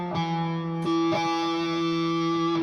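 A guitar runs through a distortion effect on a HeadRush Core, sustained buzzing chords ringing with steady harmonic-rich tone and a couple of re-struck notes, loud and close with no voices over it.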